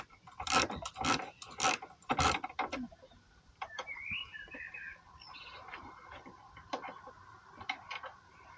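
Bolt being undone on a Mazda Bongo campervan bench seat: a burst of sharp, close ratcheting clicks in quick groups, then quieter scattered taps and a brief faint chirp, fairly soft overall.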